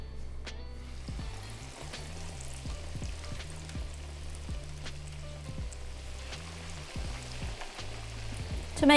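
Chicken schnitzel frying in a pan, a soft, continuous crackling sizzle heard up close with a low, regular hum beneath and occasional light pops.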